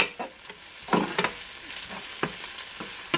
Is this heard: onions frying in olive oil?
yes